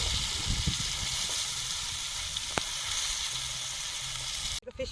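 Fish frying in a pan, a steady close sizzle and hiss of hot oil that runs continuously with a few faint pops and cuts off abruptly at the end.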